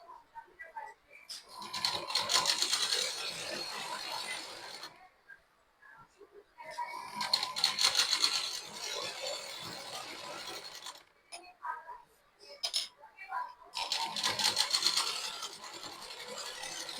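A sewing machine stitching piping cloth along a blouse front whirs in three long bursts with brief quiet gaps and light clicks between them, close by.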